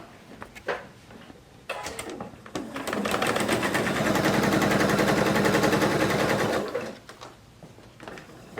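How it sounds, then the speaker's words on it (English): A sewing machine runs steadily for about four seconds stitching fabric strips onto the sides of a quilt block, loud and close, with brief handling clicks and fabric rustle before and after the run. "I'm going to take this to the sewing machine, and I'm going to sew the strips on the sides first."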